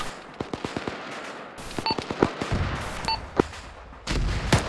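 Gunfire in a military video game crackles in sharp, irregular single shots and short bursts, some near and loud, others more distant. A sniper headshot drops a gunner in the middle of it, and no one speaks.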